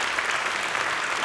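Guests at a business awards ceremony applaud a honored mill company, a steady, even wash of many hands clapping throughout, moderately loud with no voices over it.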